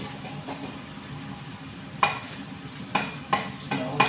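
Garlic sizzles in a pan as the base for pork adobo, a soft steady frying hiss broken by a few sharp utensil knocks and scrapes toward the end, close and without talk.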